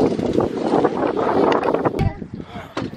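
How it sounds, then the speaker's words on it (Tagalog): Strong wind roars against the microphone in heavy bursts while someone talks over it, the gusts nearly drowning his voice at moments, at a family campsite in Donggawon, Talakag, Philippines. "Isamot ang kabugnaw tungod sa magkusog na hangin."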